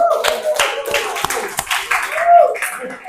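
A small group claps at a teacher performance assessment session, a short spell of close, uneven hand claps with a few sharp individual strikes and some voices and light laughter mixed in.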